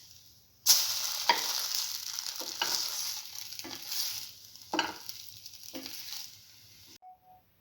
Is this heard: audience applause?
no